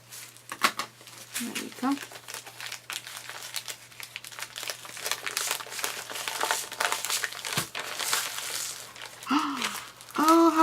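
A package is cut open and its wrapping crinkled and rustled up close, in steady bursts of crackling throughout, with a person talking briefly over it.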